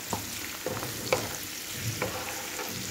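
Ginger stirred and frying in a hot pan, a steady sizzle broken by several distinct spatula scrapes and knocks at uneven intervals, close and fairly quiet with no talking.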